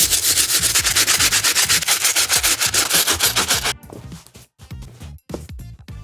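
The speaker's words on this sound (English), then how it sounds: "So I'm gonna start with the soles using the stiff bristle brush." Stiff bristle brush scrubbing the soles of an Undefeated Jordan 4 sneaker: fast, rhythmic back-and-forth strokes, loud and close for nearly four seconds, then a few slower, scattered scrubs with short pauses between.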